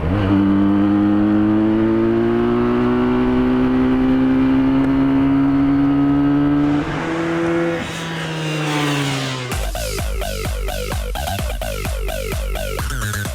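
A Benelli Tornado TNT 300 motorcycle engine revs up steadily with a rising whine, shifts gear, then keeps pulling hard and loud as the pitch climbs again.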